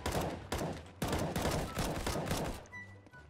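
Rapid bursts of gunfire from the video game CS:GO sound loud and close, firing in several dense volleys that stop abruptly, followed by faint game sounds.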